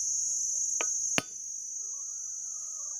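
The back of a machete raps a coconut shell twice, two sharp close knocks about half a second apart over a constant shrill cricket drone, followed by a faint wavering call.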